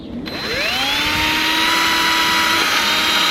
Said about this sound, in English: So what you want to do is drill a hole sideways on,